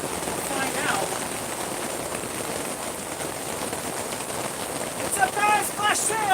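Hail falling on a tent at the Estes Park art market, a steady dense patter and rattle filling the clip with brief brighter clatters near the end.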